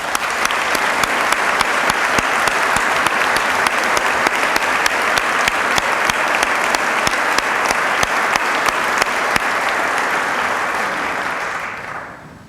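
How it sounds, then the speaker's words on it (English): Sustained audience applause fills a State of the State address hall, a dense steady wash of clapping that holds at full strength before tapering off at the end. "They all deserve a round of applause."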